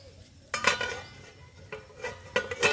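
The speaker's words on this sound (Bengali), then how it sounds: "আমি ঢাকা দিয়ে দিচ্ছি।" A metal lid clanks onto a cooking pot in a village kitchen where green chillies have just gone in, with a few sharp metallic knocks and scrapes close by and no talking.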